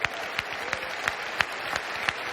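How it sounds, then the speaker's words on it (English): Audience applause at a 2014 business organisation event in Rotterdam: a steady, fairly faint wash of clapping with a few sharper claps standing out at a regular beat, heard alone without any talk. "I would like you to give them a big applause."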